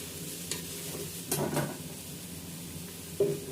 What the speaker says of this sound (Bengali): পাঁচ মিনিটের মতো ভেজে নেব